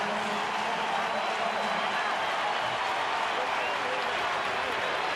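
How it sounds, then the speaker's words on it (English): A baseball crowd at a Milwaukee at Philadelphia game in July 2012 gives a round of applause for Eric Kratz, a steady, dense roar of clapping and cheering from the stands that lasts the whole stretch. "With a round of applause for Eric Kratz"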